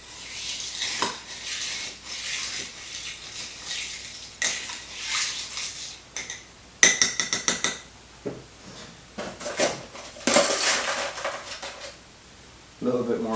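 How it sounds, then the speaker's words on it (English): A mint cocktail with crushed ice is stirred in a glass, giving clinking and rattling ice bursts and spoon scrapes in uneven clusters, close and moderately loud, with some pauses between. "Give it a nice stir, and we're going to just try and really incorporate it all into the drink."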